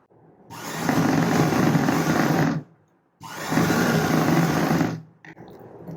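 A sewing machine stitches a strip onto a blouse in two sustained, steady motor runs of about two seconds each, separated by a brief pause, loud and close with no talking.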